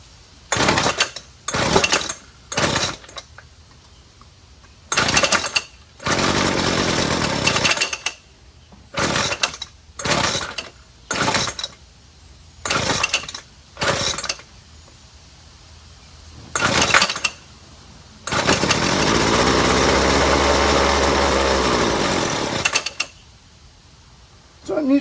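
Weedeater FL26 weed trimmer being pull-started, a string of short rasping bursts of its small two-stroke engine, then a longer few seconds of rough running that cuts out, close by.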